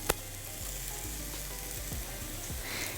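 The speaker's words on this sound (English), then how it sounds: "So we wanna just stir fry it just for a little bit" Salmon stir frying in a hot pan, a steady loud sizzle with a few soft scraping stir sounds and a small knock at the start, no talking.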